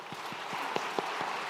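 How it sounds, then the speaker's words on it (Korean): A church congregation applauds during a Sunday worship service, a moderate, even patter of many hands clapping continuously for a brief moment. "다 같이 박수로 위로하며 격려하도록 하겠습니다"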